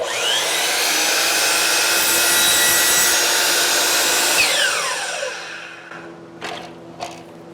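A power saw cuts through wooden studs in a garage build, a loud, steady whining buzz for about five seconds that winds down, followed by a couple of brief knocks as the cut pieces settle.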